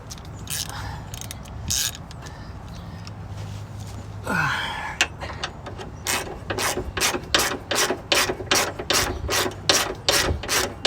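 A ratchet tightens front brake parts on a 4th-generation Firebird or Camaro, starting with scattered clicks and scraping, then settling into a quick, regular series of close, crisp ratcheting strokes.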